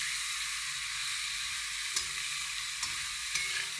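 Food sizzles steadily in a covered pan over low gas, cooked dry with green chilli paste and no water, a constant bright hiss with a few soft bumps of stirring.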